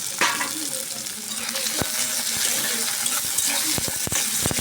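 Chopped onion and garlic with roasted cumin sizzle steadily in hot oil, a continuous close hiss broken by a few sharp spatters and stirring clicks.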